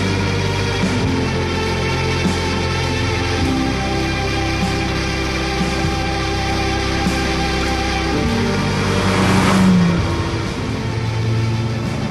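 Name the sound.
Ferrari 275 GTS car engine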